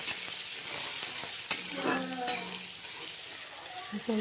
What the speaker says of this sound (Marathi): हे सगळं आधी हलवून घेऊया